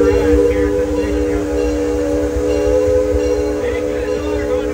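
Amusement park train idling at a station at Six Flags Over Texas during Fright Fest, with steady whistle-like tones and a low rumble under background chatter.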